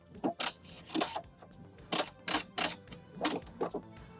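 Sewing machine back stitching the seam of a wrap dress, a run of short mechanical bursts of stitching in an irregular rhythm, close and fairly quiet, with no talking.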